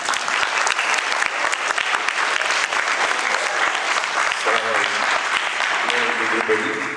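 A TEDx youth event audience gives a speaker a big round of applause, dense and steady clapping throughout, with a voice starting to talk over the clapping near the end.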